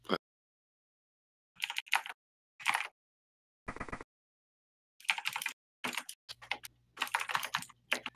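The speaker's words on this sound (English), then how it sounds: "Your typing is really hammering into my ears right now." Keyboard typing picked up by a voice-chat microphone, coming in short scattered bursts of clicks with silent gaps between them. The sound is clipped and gated, and the last burst sits over a low electrical hum.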